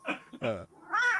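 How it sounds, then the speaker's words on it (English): A house cat meows at close range, giving two short calls and then a longer rising-and-falling meow, clear and prominent. "That was Keeve's cat going"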